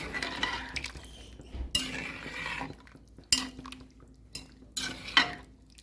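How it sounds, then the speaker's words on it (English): A spoon stirs rice and peas in a pot for Jamaican one-pot barefoot rice and peas, with scraping strokes and several metallic clinks against the pot, close and clear, no voices. "I'm gonna give that a good stir and allow to finish cook with the peas"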